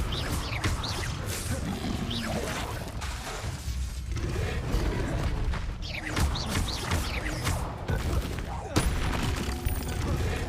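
Fire spells and levitation charms cast in a Hogwarts Legacy fight: repeated whooshing bursts and crackling blasts in rapid succession amid combat noise and growling creatures, with a player calling out spell names.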